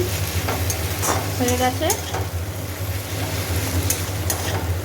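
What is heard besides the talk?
stirring cooked rice frying in oil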